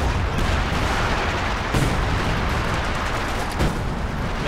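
Artillery fire in a WWII strategy video game, a dense continuous rumble of distant booms and blasts with a couple of slightly heavier thuds standing out, loud and unbroken throughout.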